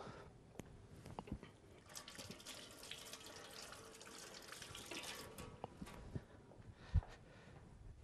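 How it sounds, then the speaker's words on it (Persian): Chickpeas are rinsed in a colander under a running tap for a chickpea salad, with a steady, fairly quiet rush and splatter of water and a soft knock near the end. "یک بار آبکش میکنیم"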